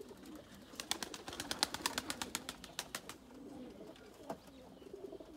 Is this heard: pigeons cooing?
yes